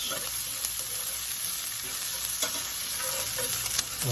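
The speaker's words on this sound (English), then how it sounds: "1/3 of a cup of onions. I'm going to whiz those around so they are mostly transparent" About a third of a cup of chopped onions sauté in a hot pan with a bright, steady sizzle up close. Occasional soft scrapes and light taps come from stirring.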